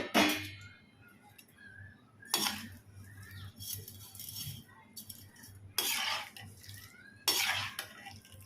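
Semiya biryani being stirred in a pot, with several bright scraping and clanking strokes of a ladle against metal separated by quieter gaps with faint bubbling.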